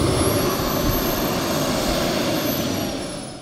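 A turbine-powered model jet flies past at a mountain airfield during a jet training week, a loud, steady jet roar with a high whine that slowly fades toward the end.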